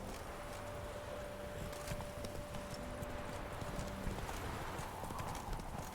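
Horse hooves clip-clop steadily in The Witcher 3, a regular quiet rhythm of hoofbeats over a constant background hum, with a faint tone briefly present.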